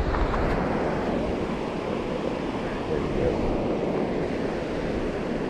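Steady wind roars across the microphone at a river spillway, a dense, constant rush with rushing water blended underneath.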